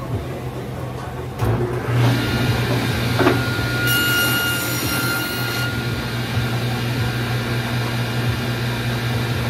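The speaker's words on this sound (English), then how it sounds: "Kick on some dust collection here." Dust collection system running in a woodshop, a steady broadband whoosh with a low hum that starts abruptly and holds at a constant level, with a brief higher whine partway through.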